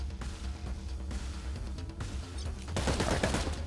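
Rapid bursts of gunfire in the video game Cyber Knights: Flashpoint over a dense, rumbling background, growing louder and more intense toward the end.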